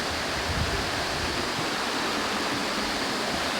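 Steady roar of the Kuta Malaka mountain waterfall in Aceh Besar, a dense and continuous rush of falling water, loud and close throughout.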